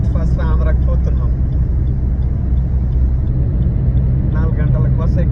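A bus engine rumbles low and steady from inside the moving vehicle on an early-morning ride out of Hyderabad toward Andhra, with people talking over it at the start and end.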